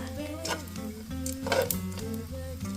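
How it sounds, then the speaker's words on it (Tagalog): Food sizzles and crackles in hot oil in a home kitchen, a close, steady frying hiss under a faint background hum. "Parang sinausaw ko lang siya sa mainit na mantika."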